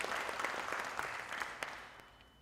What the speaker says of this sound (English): Can you give them a big round of applause for that resilience?